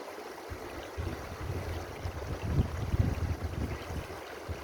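A gold pan is gently washed in water from the North Fork American River, soft sloshing and swirling with low gurgles over a steady outdoor water wash, close by.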